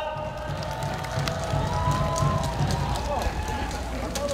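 A large crowd of university students applauds at an outdoor political rally on a cold day, a dense steady clatter of clapping mixed with crowd noise, moderately loud.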